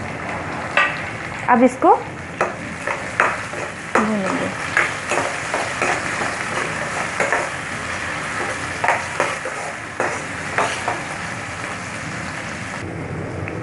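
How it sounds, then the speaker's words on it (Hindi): Tomatoes tipped into onions frying in a pan: a steady close sizzle of hot oil with repeated scraping and stirring knocks, while a voice speaks briefly over it. "हमारा प्याज भून गया, अब हम इसमें टमाटर डालेंगे"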